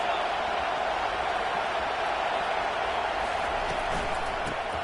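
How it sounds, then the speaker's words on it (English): A stadium crowd at a football game roars as one steady, dense wash of cheering noise that holds unbroken throughout, loud and uniform with no distinct voices standing out. "Listen to the crowd energy here in the early going. This is a tough environment for visitors."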